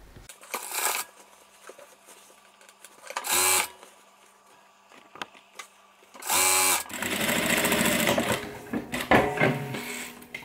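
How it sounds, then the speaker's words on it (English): A sewing machine top stitches two seams on a beginner messenger bag, running in short separate bursts with quieter handling noises and pauses between them, close up and without talk. "So you're going to sew along here, fold it open, and then top stitch two seams."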